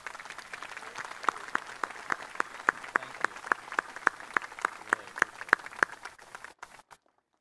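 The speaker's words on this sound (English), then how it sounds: "Please give a round of applause for the Giannonis." Audience applause at Ukiah High School's 2023 graduation ceremony, heard as a loose scatter of individual claps in a fairly even rhythm, moderately near, that stops abruptly near the end.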